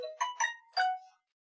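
A phone rings with a short electronic chime: three bright, bell-like tones in quick succession, the last held a little longer, then silence.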